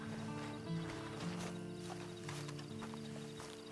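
Horse hooves clip-clop at a steady pace in Red Dead Online over a tonal, humming background, with a short whinny-like sound mixed in.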